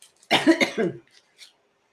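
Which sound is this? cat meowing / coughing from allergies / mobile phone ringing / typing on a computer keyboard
coughing from allergies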